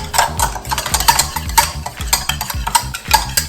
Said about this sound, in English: And start whisking.